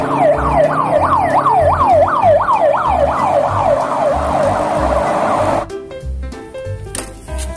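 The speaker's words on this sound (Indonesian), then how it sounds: "Wadidaw, kalau ini mobil ambulan." A toy ambulance's wailing siren rises and falls repeatedly and loudly, then cuts off abruptly, leaving a short burst of clattering, busy noise.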